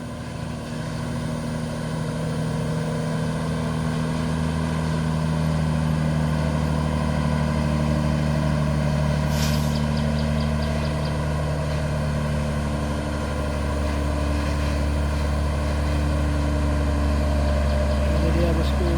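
A Fuso Tronton 220 PS trailer truck idles on a steep hill road at the Kedabuhan climb. Its engine gives a steady, close, low rumble that holds unchanged throughout.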